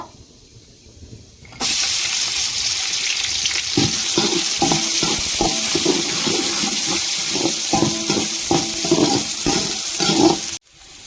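Crushed garlic and shallots drop into hot oil in a pan for Tamil fish curry, bursting into a loud, continuous sizzle with stirring scrapes over it that runs for about nine seconds before stopping abruptly.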